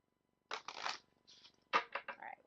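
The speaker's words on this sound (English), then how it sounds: "All right, one more shuffle," A deck of cards shuffled up close, quick fluttering riffles in a few short bursts with brief pauses between.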